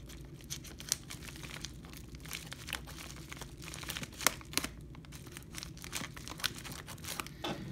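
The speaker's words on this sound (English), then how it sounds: "the paper they make these packages out of is" Paper packaging containing rookie trading cards, a giveaway prize, is crinkled and torn while being opened, with steady rustling and sharp crackles throughout, close and fairly quiet, with no talking.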